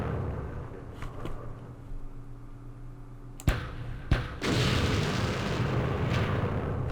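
Video-game M106 carriers lobbing 4.2-inch mortar rounds: several sharp launch thumps spaced apart, followed by a loud, rumbling blast that keeps roaring and hissing to the end.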